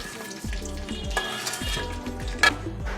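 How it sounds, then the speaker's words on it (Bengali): Eggs frying in hot oil while a utensil stirs them continuously, making a steady sizzle with repeated scraping and clinking against the pan and one sharp metallic clank near the end. "ডিমগুলো আমি অনবরত নাড়তে থাকব"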